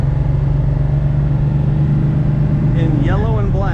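A 1970 Dodge Super Bee with a four-speed manual idles steadily in a low, continuous rumble, loud and close, while someone talks over it for most of the stretch.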